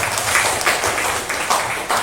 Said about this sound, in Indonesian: beri tepuk tangan untuk ayah